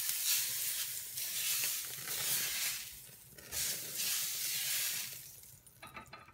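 Butter sizzles in a hot crêpe pan with a steady, close frying hiss that swells and eases in waves, with light scraping near the end and no speech.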